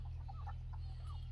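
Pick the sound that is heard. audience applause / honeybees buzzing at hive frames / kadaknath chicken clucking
kadaknath chicken clucking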